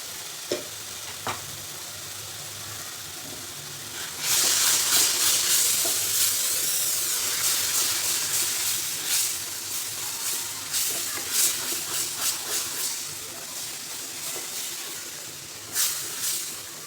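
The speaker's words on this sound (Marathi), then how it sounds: "सारखं हलवत राहायचं म्हणजे चिकटला जाणार नाही" Mango pulp modak dough being stirred continuously in a hot pan, a steady scraping hiss with sizzling and soft clinks of the spoon, louder after the first few seconds, with no talking.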